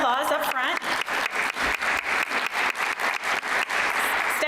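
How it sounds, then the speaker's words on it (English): Audience at a women's leadership conference panel breaks into applause, a steady wash of many hands clapping at close range with a few louder claps standing out. Someone speaks briefly over the first moments. "So I'm just going to give them a round of applause up front."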